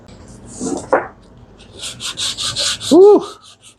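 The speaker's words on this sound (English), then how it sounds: "Still sanding. Still sanding." Rhythmic rasping strokes of hand sanding fiberglass on square body Chevy door panels, a series of short scrubbing passes, close by, with a brief knock and a short vocal sound near the end.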